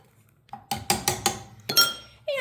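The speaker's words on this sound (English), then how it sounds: "I'm gonna go ahead and just stir that a little bit in the bowl here" A spoon stirs ground ginger into carrot cake batter in a bowl, giving a series of sharp clinks and taps against the bowl, several distinct strikes in quick succession, close and fairly clear with no talking.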